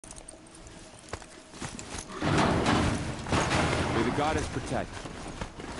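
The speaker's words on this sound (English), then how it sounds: "I'm having issues riding the horse." Horse hooves clopping in Horizon Zero Dawn while a character rides a mount, a loose, uneven trot under game ambience and a short spoken line.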